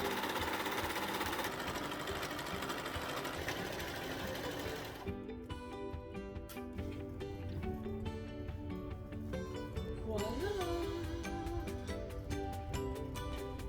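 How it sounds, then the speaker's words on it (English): A serger sewing machine overcasts fabric seams on a home sewing project, running in a steady, continuous mechanical whir with rapid stitching clatter that holds throughout at close range, with no voices. "Now we serge."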